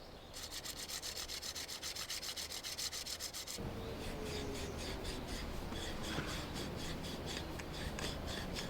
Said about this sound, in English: So I like to rub back through and polish it